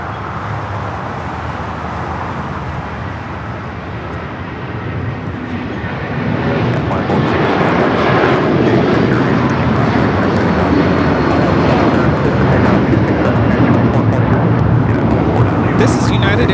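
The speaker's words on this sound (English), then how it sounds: "This is United Airlines 2113 taking off to Chicago on the 757-300." A United Airlines Boeing 757-300 takes off at LAX, engine roar building sharply midway into a loud, sustained rumble and crackle, with someone talking over the noise.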